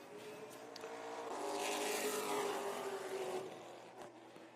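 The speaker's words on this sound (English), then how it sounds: "Pro Late Models on the track." Pro Late Model race cars circle a speedway track, a distant engine roar swelling as a car approaches and passes, then fading, heard fairly faint in an open setting.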